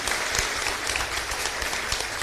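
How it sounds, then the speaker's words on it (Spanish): Steady applause from a church congregation inside the Santo Domingo de Guzmán chapel in Areguá, a continuous patter of many hands clapping at moderate volume with no break. "Y fuerte un aplauso para ustedes y para toda la comunidad."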